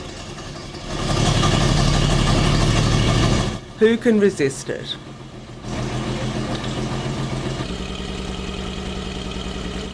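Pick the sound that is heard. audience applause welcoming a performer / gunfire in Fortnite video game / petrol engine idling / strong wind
petrol engine idling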